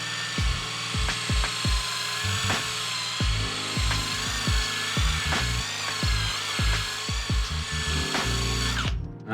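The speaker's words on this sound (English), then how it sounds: "we're going to go ahead and buff it off with a 6-inch wool pad" A power drill on fast mode whirs continuously at high speed, with rhythmic thumping pulses as a 6-inch wool buffing pad works across a live edge wood charcuterie tray, then cuts off abruptly.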